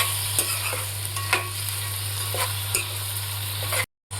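A spoon stirs marinated prawns in a hot pan for biryani, giving scattered scraping clinks over a steady, close frying sizzle with no voices.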